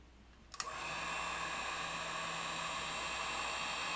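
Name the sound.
hair dryer blowing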